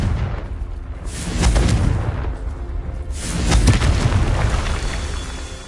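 Confringo fire spell blasts in Hogwarts Legacy, two heavy booming explosions each swelling and fading over roughly a second, loud and close with rumbling tails between them.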